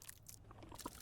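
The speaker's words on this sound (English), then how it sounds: "Nice crunch sounds." Crunching, chewing-like gore effects from a Mileena fatality in Mortal Kombat X, a short run of wet bites and cracks building to a loud final hit, no talk.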